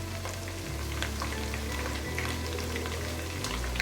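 Whole bay leaf and cinnamon stick sizzle steadily in hot oil for chana pulao, a dense, continuous frying crackle with a low rumbling hum underneath and no talk.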